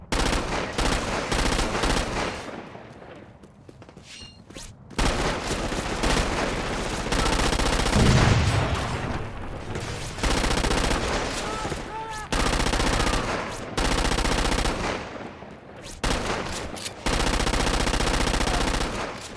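Sustained automatic gunfire in the video game Crackdown 2, dense loud rattling bursts with brief gaps, mixed with game sound effects and occasional voice lines.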